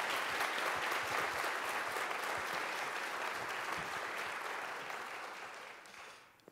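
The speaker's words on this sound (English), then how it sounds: "How about another round of applause for those readings?" A campus audience at a National Book Awards reading event applauds for the readings, a dense wash of clapping from many hands that holds steady and then fades away near the end.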